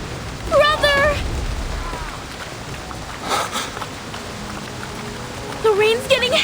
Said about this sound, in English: The rain's getting heavier!